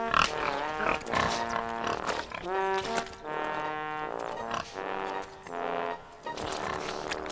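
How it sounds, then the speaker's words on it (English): Pigs grunt and squeal repeatedly while rolling in the mud on a pig farm, a steady run of close, loud, tonal animal calls heard alone in a Thomas & Friends children's animation. "Thomas was watching the pigs roll in the mud"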